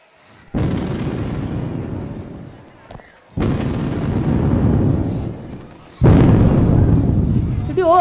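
Firecrackers set off during a school annual-day Hindi drama performance go off in three loud, separate bursts. Each crackling barrage lasts a couple of seconds, with quieter gaps between them.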